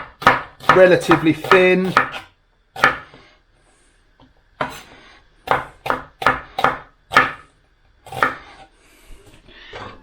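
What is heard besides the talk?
knife slicing onions lengthwise on chopping board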